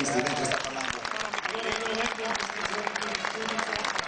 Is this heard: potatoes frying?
no